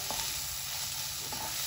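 Chicken stuffing cooking in a pan with chaat masala, a continuous low sizzle with faint stirring scrapes, steady and close.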